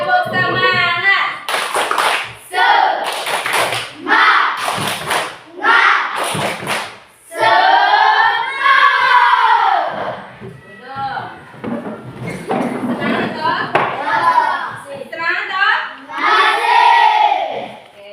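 Schoolchildren in a classroom do a rhythmic spirit clap, with bursts of patterned hand claps and thuds. The clapping alternates with loud group chanting and singing, and an adult voice leads between the bursts.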